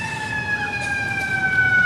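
An ambulance siren wails as it passes by on a street outside a commencement ceremony, a steady tonal siren gradually sliding in pitch, fairly loud and alone over background hum.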